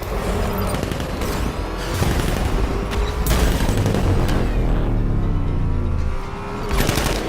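Heavy gunfire and explosions in Batman: Arkham Knight, loud bursts and booming blasts overlapping with rumbling vehicle noise, continuous and intense throughout.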